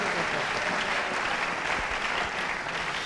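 A church congregation breaks into loud, continuous applause, dense clapping from many hands filling the space for a few seconds with no speech over it.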